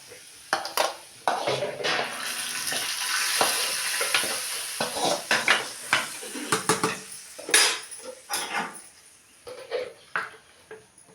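A spoon stirs lentils in a metal cooking pot over a sizzling village-style tempering, with repeated loud scraping and clanking strokes close up over a soft frying hiss, no talk.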